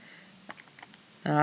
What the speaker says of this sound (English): it's just typing numbers into the calculator